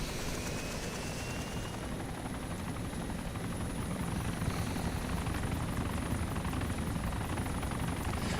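Helicopter in the Arma video game running the Origins mod, a steady rotor thump and turbine whine heard from inside the aircraft, continuous and fairly even throughout with no speech.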